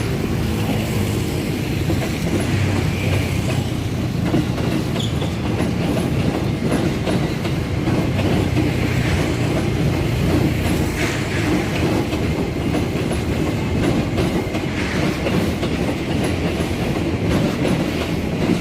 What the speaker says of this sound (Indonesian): Terlihat kereta melintas di atas terowongan Belanda menuju ke stasiun Manggarai.